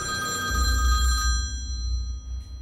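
A telephone rings indoors with a bright, trilling bell that sounds for over a second and then stops, leaving a low room hum.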